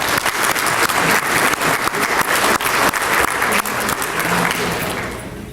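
An audience at a community awards dinner applauds a winning restaurant with sustained, dense clapping from many hands that holds steady and then gradually fades.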